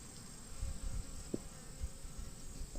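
Honeybees buzz around an open beehive during a queen-right inspection, a soft, steady droning hum close by with one brief louder buzz passing near, and no voices.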